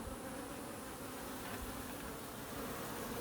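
Honeybees swarm a nearly emptied feeder that held a gallon of sugar water, giving a steady, dense buzz close by with no break from start to finish.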